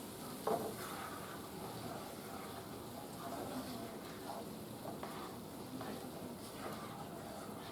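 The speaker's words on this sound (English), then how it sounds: "Add the butter, allow it to melt about 1 minute. Stir continuously and until it's all melted." Butter melts and sizzles softly in a pan for garlic butter chicken while being stirred continuously, a faint, even frying crackle with light stirring scrapes throughout.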